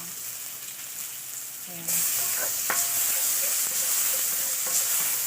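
Garlic hits hot sesame oil and erupts into a loud, steady sizzle that carries on to the end, with a few scraping stirs along the way. A brief spoken word comes just before the frying starts.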